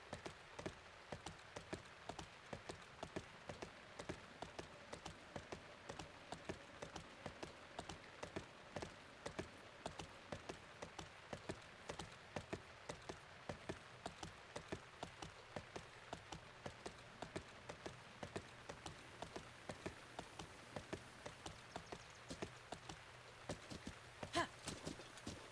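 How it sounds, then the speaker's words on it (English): Horse hooves clip-clop steadily at a quick rhythm in The Legend of Zelda: Breath of the Wild, a continuous run of close, regular in-game footfalls with faint rain-like patter beneath. "You're a video game horse."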